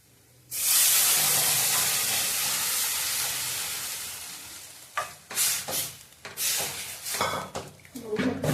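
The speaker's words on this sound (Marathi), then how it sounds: "एकत्र करून तेलात भाजून घ्यायचं चांगलं. गॅस मोठा करायचा आणि फोडणी." Cooked chakvat greens are poured into a pan of hot oil with tempering spices over high flame, a sudden loud sizzle that slowly fades, followed by sharp intermittent hissing bursts and stirring.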